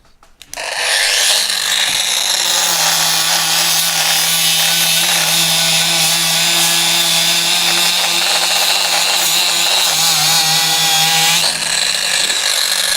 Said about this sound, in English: with the mini angle grinder, I can do that very quickly, touch not too much material, and get rid of the welding seam on that